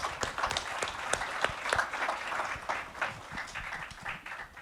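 Audience applause at a leadership summit, a dense, steady wash of many hands clapping at moderate distance, with sharper individual claps standing out throughout.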